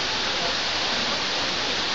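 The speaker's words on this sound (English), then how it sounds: "so we're at the waterfall." A waterfall in Ulsan, South Korea roars as a steady, dense rush of falling water. It is loud and close, and fills the whole moment without a break.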